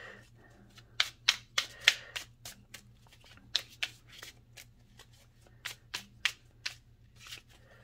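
A deck of tarot cards shuffled and drawn, crisp flicking riffles and snaps in quick uneven bursts, close and clear with a quiet hum beneath and no voices.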